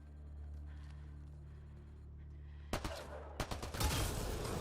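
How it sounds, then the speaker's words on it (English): Gunfire in the video game Mass Effect Andromeda, aimed at a Ket device on an icy world: a low steady hum gives way to several loud, sharp bursts of shots in quick succession. "Shooting the device will destroy it."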